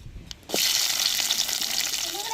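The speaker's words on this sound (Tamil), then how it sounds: "வெட்டி வச்ச வெங்காயத்தை எண்ணெயிலே வதக்கி எடுத்துக்கிறோம்." Chopped onions drop into hot oil already holding curry leaves and dried chillies, setting off a sudden loud sizzle that carries on steadily, close by, after a few faint clinks.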